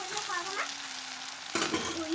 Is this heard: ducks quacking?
no